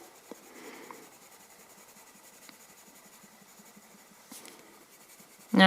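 A colored pencil scratches faintly across paper in a quiet, steady drawing stroke, with a few small taps and a soft bump at the very end.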